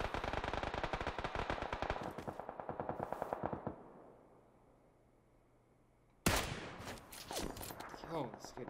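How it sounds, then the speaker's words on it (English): Rapid machine-gun bursts in a video-game firefight, dense and loud for several seconds, then a lull of low rumble before another heavy volley erupts; voices talk during the action. "They're shooting behind us as well."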